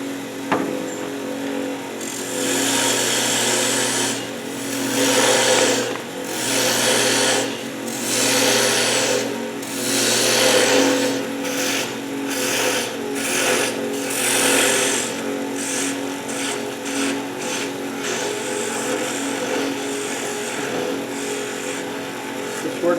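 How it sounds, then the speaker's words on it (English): A spinning wooden top on a wood lathe has a groove cut into it with a parting tool during a woodturning demonstration. The steady scraping whir runs throughout, with repeated brief pauses and restarts of the cut and no talking. "I'll use that to cut this part and So I cut that groove"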